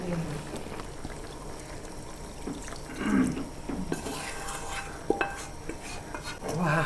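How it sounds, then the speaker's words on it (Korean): Vegetables are added to a pot of vegetarian jjamppong made with mushrooms, giving soft clinks of utensils against cookware, light stirring and splashing, with faint kitchen background noise. "이제 야채를 넣을 거예요."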